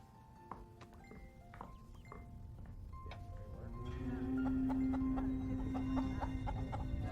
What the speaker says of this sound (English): could you take Daniel's chickens away, please